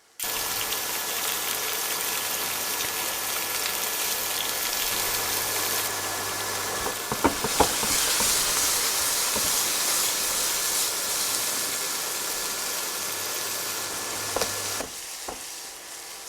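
Meatballs brown and char in a hot pan, sizzling and hissing steadily up close, with a few clattering knocks of a utensil partway through and near the end.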